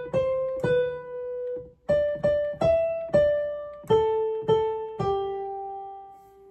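Two repeating measures of the second soprano part of the choral piece Soli Deo, played as a clear, bright keyboard-like melody of plucked notes at a moderate, steady pace, close and alone.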